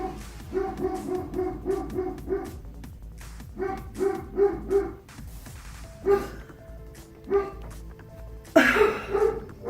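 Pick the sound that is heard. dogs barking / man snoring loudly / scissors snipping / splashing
dogs barking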